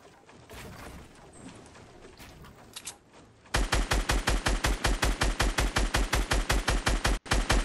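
Rapid automatic gunfire in Fortnite Battle Royale bursts in loud and close after a few seconds of quieter game ambience, firing in a steady rhythm of sharp shots with one brief gap near the end.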